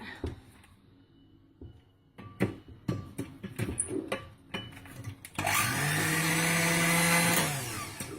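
Knocks and clatter give way to a loud, steady electric blender whir that runs for about three seconds, mixing homemade mayonnaise ingredients with vinegar, then tapers off.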